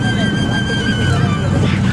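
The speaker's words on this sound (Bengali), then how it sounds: "নৌকাটি এখন ছেড়ে দিয়েছে, আস্তে আস্তে পাড় থেকে বেরিয়ে যাচ্ছে" A boat pulls slowly away from the bank on the Brahmaputra river, a steady low engine rumble with wind and water wash, close and continuous.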